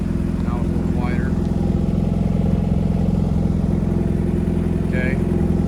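A 1981 Jeep CJ-7 four-cylinder engine idles steadily up close with a buzzy, even low drone that does not let up, while someone talks briefly over it.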